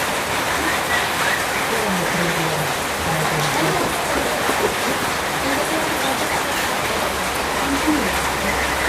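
Heavy rain pours down in a dense, constant hiss, with faint muffled voices now and then beneath the downpour.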